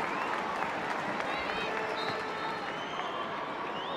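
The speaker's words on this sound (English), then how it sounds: "Back in Middlesbrough, the crowd applauds." A large stadium crowd in Middlesbrough applauds steadily at an England vs Canada women's football match, a broad wash of clapping with cheering mixed in, heard from within the open venue.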